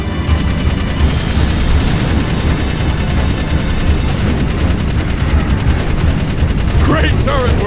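Rapid turret gunfire in the Jak 3 video game, a loud continuous stream of shots and booms that fills the whole stretch, with a brief higher effect sound near the end.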